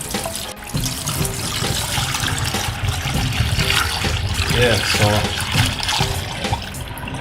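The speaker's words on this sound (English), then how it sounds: "Rinse off the fish them and get some fresh water." Tap water runs steadily into a sink while fish is rinsed for a Jamaican foil-baked fish dish. The close trickle and splash continue under brief conversation.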